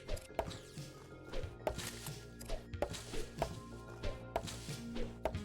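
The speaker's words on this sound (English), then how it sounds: "I am just chopping trees at random while keeping an eye out for mushrooms." Axe chopping trees in the video game Lumberjacked: repeated sharp wooden thunks at an irregular rhythm, about a dozen strikes, loud and alone over a steady game music bed.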